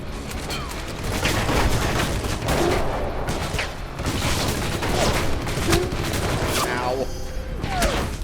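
Gunfire in the video game Alpha Protocol, with sustained loud shots and bursts over a constant game soundscape, and a person talking in places.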